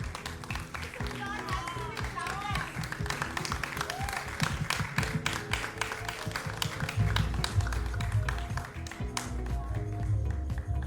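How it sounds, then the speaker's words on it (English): Audience applause at a student speaking event: dense, continuous clapping from a crowd, fairly loud and steady for the whole stretch, with some rhythmic taps and indistinct voices mixed in. "a big round of applause for Ishan."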